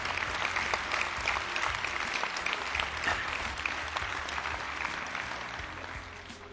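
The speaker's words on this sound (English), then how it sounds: "Give a big clap to my master, Lobsang Rampa." An audience at an indoor spiritual event claps loudly for a steady stretch, dense and sustained, slowly fading toward the end, with no voice over it.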